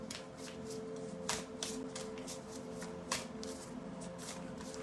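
Tarot-style cards being shuffled close up, a quiet series of crisp riffling bursts with soft hand handling between them.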